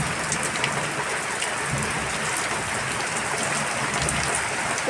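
Heavy evening rain pours steadily onto surfaces in a dense, even hiss with scattered close drips, unbroken and loud throughout during a thunderstorm.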